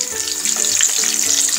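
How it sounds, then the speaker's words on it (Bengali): Rohu fish heads rubbed with turmeric and salt fry in hot oil, producing a loud, dense, continuous sizzle and crackle close up, with no voices. "তেল গরম হয়ে গেলে এর ভিতরে আমি মাছের মাথাগুলো ভেজে নিব।"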